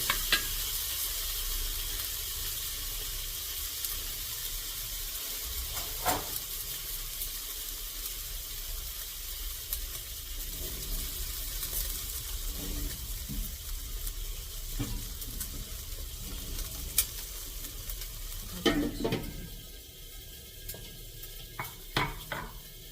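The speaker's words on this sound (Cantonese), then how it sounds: "將個 五花腩就咁白肉擺落去煎下佢。" Pork belly sizzles faintly and continuously as it fries in a pan, with close crackling and a few soft clinks of cookware near the end. No one speaks.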